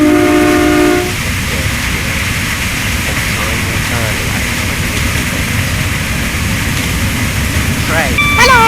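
A Class 365 electric train in Train Simulator 2017 runs with a steady rumbling hum of motors and rails, a short horn tone sounding at the start and near the end, while a voice talks over it.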